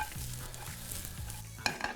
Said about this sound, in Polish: Pieczarki się smażą